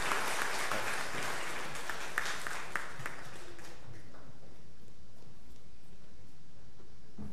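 A church congregation claps in welcome, a full burst of applause that is loud for about three seconds and then thins out and fades away.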